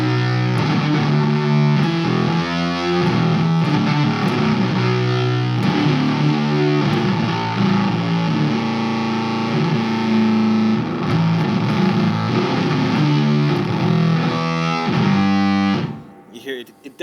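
Electric guitar run through a Way Huge Atreides effects pedal, playing a continuous stretch of heavily distorted, glitchy tones that jump between pitches, loud and steady until it cuts off near the end.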